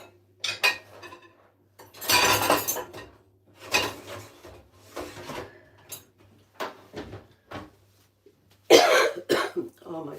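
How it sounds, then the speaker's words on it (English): Someone coughs repeatedly in a kitchen, several harsh, close bursts with throat clearing between them, mixed with the clink of dishes and cutlery and brief stretches of quiet. "Oh my gosh, I still cough."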